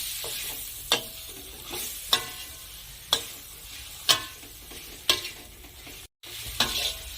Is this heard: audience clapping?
no